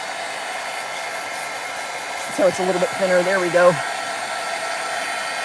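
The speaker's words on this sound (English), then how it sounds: "I'm actually going to get out my heat gun." A small heat gun blows steadily on ink in a continuous airy hiss, moderately close, while someone talks briefly over it partway through.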